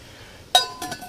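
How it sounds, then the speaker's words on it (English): A lid set back on a water-filled cooking pot gives one sharp, ringing metallic clink up close, followed by a quieter rattle as it settles. "Put the lid back on."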